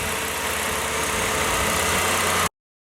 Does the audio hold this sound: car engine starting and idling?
yes